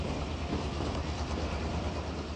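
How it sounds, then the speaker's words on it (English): A McCloud River Railway train running through the countryside, a steady loud rumble of wheels on track that stays constant, close and with no voices. "as we climbed aboard a train run by the McCloud River Railway Company"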